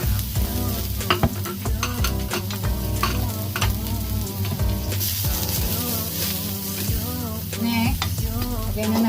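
Garlic sizzles and fries in a pan for a salted egg prawn stir-fry, a loud, continuous crackle with stirring clatter, and steady background music underneath.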